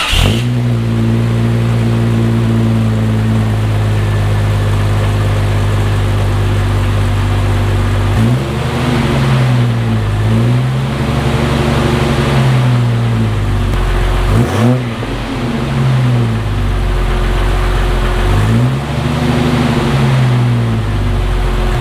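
A Jeep XJ with a 4.0 engine fires up and runs loud and close, idling steadily, then revving in several rising and falling swells, with a sharp burst midway.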